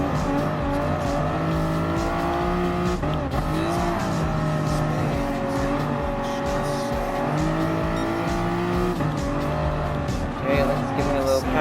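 Race cars in Gran Turismo Sport, among them an NSX, a Viper and a Corvette, hold a steady engine drone with shifting pitch and occasional tire squeal, heard continuously at close range.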